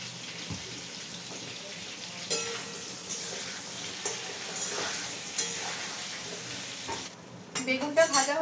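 Eggplant pieces fry with salt and turmeric in a pan, a steady close sizzle marked by periodic stirring scrapes and taps, ending in a cluster of louder knocks.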